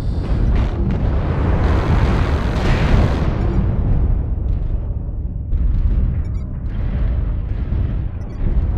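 A mech blows up in MechWarrior Online with a heavy, rumbling explosion that booms loudly at first and then rolls on into a long, dying roar with scattered debris crackles.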